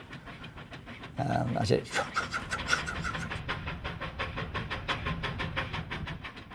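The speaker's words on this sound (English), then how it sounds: "you can hear the engine going heavy beat on it" A steam locomotive chugs with a heavy, steady rhythmic beat, its exhaust pulsing nearby as a voice speaks briefly over it.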